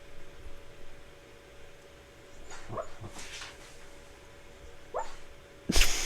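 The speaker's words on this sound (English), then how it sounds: "My dog is having a nightmare. She's like screeching in her sleep." A dog whimpers and yips in its sleep during a nightmare, in short, high bursts, soft and fairly close, with quiet pauses between cries and no talking.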